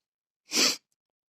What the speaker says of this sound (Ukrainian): Тепер чихаю цілий час.